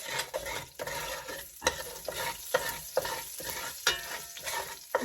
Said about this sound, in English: Just going to literally let those toast for a minute in the olive oil